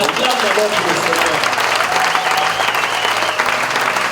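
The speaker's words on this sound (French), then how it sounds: "Acclame d'abord pour le Seigneur." A church congregation applauding for the Lord, dense sustained clapping from a large crowd, loud and continuous, with voices mixed in beneath.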